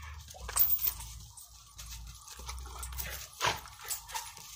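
Female dog panting with soft whimpers, close and fairly quiet, with short breathy bursts recurring across a few seconds outdoors.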